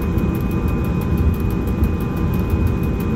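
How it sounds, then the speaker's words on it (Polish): An ST44 diesel locomotive engine in the MaSzyna train simulator, nicknamed Gagarin: a loud, steady low rumble with a faint high whine and a regular throbbing pulse, continuous and close. "Ach, ten dźwięk silnika. Piękny jest, nie?"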